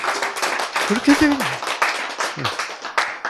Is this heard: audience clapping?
yes